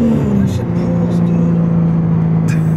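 A sports car under hard acceleration gives a loud, steady engine drone heard from inside the cabin, its pitch shifting slightly as it pulls, with people talking over it.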